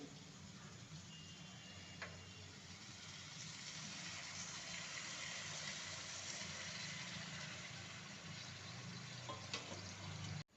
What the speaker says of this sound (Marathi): मी आता याच्यातनं मी गरम पाणी टाकते